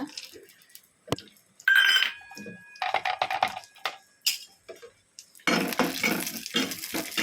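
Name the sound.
dry fruits frying in ghee in a pan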